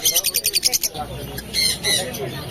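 Java sparrows chirp in a quick, rhythmic run of bright, near calls at a Barrackpore bird market, then the chirping becomes sparser amid market bustle and nearby voices.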